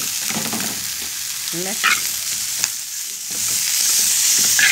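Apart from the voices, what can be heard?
onion, tomatillo and vegetables frying in a pan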